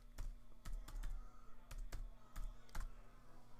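Light, quick keystrokes tap on a computer keyboard as a single word is typed, a short irregular run of soft clicks close by in a quiet room.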